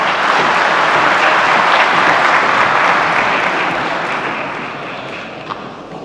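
An audience at an opening session of a Lisbon forum applauds with dense, loud clapping that fades gradually over several seconds.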